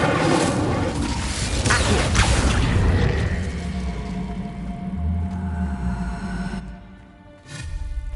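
Incendio fire spell cast in Hogwarts Legacy: a loud whooshing burst with a booming rumble that swells over several seconds, then drops away and flares up briefly again at the end.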